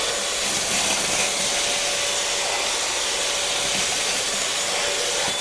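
A Bissell Featherweight vacuum cleaner runs continuously with a loud, bright motor whine and airy hiss, steady throughout with no talking.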